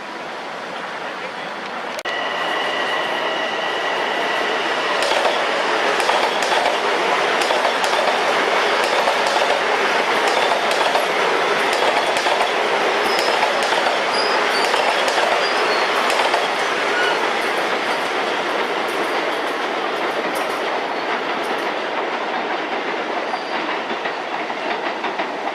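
A Long Island Rail Road train on the Port Washington branch near Citi Field rolls past with a steady roar of wheels and clickety-clack over the rails, brief squeals rising now and then, loud and sustained throughout.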